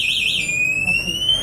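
An electric bicycle's anti-theft alarm beeps near at hand, a warbling electronic siren that shifts into a steady continuous high tone.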